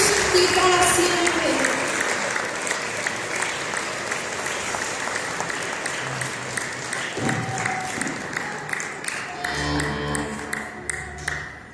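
A church congregation claps loudly during a Spanish-language worship service, a dense burst of applause that settles into rhythmic clapping as music and voices continue underneath.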